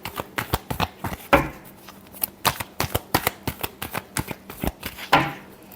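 Tarot cards being shuffled in quick, crisp bursts of riffling and slapping, a steady run of close, sharp flutters with a few heavier snaps, with no talking.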